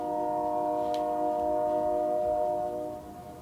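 A train horn sounds from a distance as a steady, layered tonal blare that holds for about three seconds before fading. Faint rumble sits underneath, and no one speaks over it.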